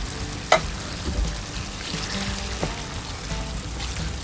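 Tomato sauce poured into chili simmering in a pan makes a soft, close bubbling and sizzling with faint wet stirring sounds and a sharp clink near the start.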